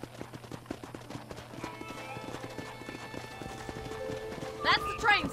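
Video game horse hooves clip-clop in a steady trotting rhythm along a railroad, a horse snorting and whinnying near the end, with quiet background ambience.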